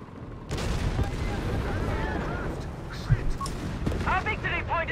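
Rocket artillery fire from a Whizbang in Company of Heroes 3, heard as a rumbling barrage of launches and distant explosions with a sharp thud, mixed with battle noise and unit voice chatter.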